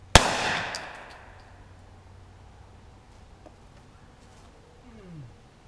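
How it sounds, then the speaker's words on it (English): A single sharp, loud gunshot from a .40 S&W Hi Point carbine fired at very close range cracks at the start and then decays into quiet, with faint clatter afterward. "And I'm going to shoot it at ridiculously close ranges."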